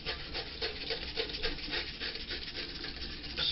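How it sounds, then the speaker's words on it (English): Fingers scrub soap and suds into the grooves of a vinyl record, making a steady, close rubbing and scratching with a rhythmic back-and-forth texture and no voices. "scrub the soap and suds into the grooves"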